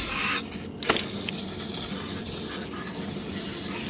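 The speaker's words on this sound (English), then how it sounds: "just trying to spray the main stuff off" A continuous hiss of a pressurized water spray washing a car engine bay, with brief dips and a sharp burst partway through, loud and close.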